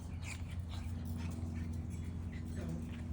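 An Australian Cattle Dog (Blue Heeler) puppy whimpers and yips in short, thin bursts, close by, over a low background rumble.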